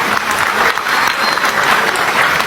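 Applause from a large crowd at an outdoor religious gathering, a dense, continuous rush of clapping hands that stays loud and even throughout, with no talking over it.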